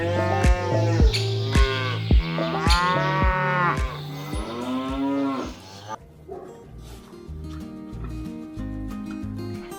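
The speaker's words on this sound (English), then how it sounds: "Once settled, the cattle are released into open fields for free grazing" Cattle grazing freely in open fields moo repeatedly and loudly, several long overlapping calls from nearby animals in the first half, followed by quieter lowing and rustling farm ambience.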